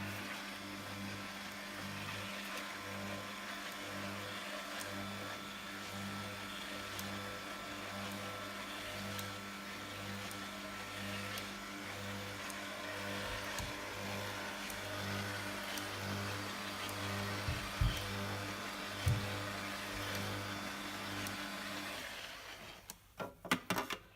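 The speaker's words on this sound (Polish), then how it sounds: "Włączamy wyciskarkę." A Hurom One Stop slow juicer runs with a steady low motor hum and a faint pulsing rhythm for a long stretch, ending in a few clunks and knocks.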